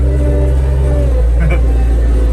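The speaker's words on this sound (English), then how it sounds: "on the way to the engine with the skid steer" A skid steer loader drives across a field during a 1967 C10 engine swap, its engine a loud, close, steady low rumble that holds throughout with a faint higher whine near the middle.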